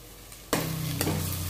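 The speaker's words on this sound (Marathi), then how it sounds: "एकदा व्यवस्थित परतून घ्या।" Pomfret sautéing with onion, turmeric and red chili powder over a low flame, a sudden loud sizzle starting partway through and holding steady, with one brief stirring scrape.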